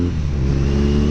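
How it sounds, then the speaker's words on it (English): A BMW R90 motorcycle engine revs high, giving a loud, close, sustained droning roar with a strong low rumble that holds steady throughout. "when you are revving it super high like this, the engine cuts off."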